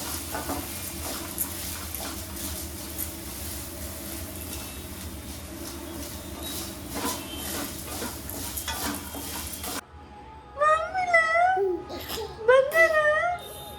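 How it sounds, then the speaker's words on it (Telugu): Grains for a homemade multigrain baby cereal are roasted and stirred in a pan with a soft continuous sizzle and scraping, then a child babbles and squeals near the end. "ఇది కూడా మంచిగా ఇలా రోస్ట్ చేస్తాం."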